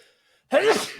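A single sharp sneeze bursts out after near silence, close and loud, with a breathy trailing tail.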